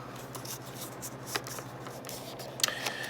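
Supplementary cards from a HeroQuest Mythic Tier box are handled during an unboxing: close, soft papery shuffling and rustling with a few sharper flicks and taps, with no talking.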